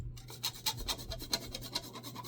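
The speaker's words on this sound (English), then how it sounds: "You just want to grate this" A Butterfinger candy bar rubbed against a microplane grater gives a soft, rhythmic rasping of quick repeated strokes, close but fairly faint over a low background hum.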